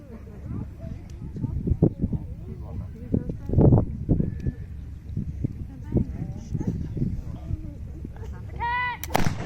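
Early 18th-century muzzle-loading guns fired at a display, heard as sharp dull reports among crowd noise and a speaking voice, with a short whine near the end.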